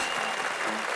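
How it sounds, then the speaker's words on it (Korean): Dense audience applause from a group of participants at a Korean variety show event, a brief, loud wash of clapping with a faint voice near the end. "여러분 다시 한번 박수 부탁드립니다"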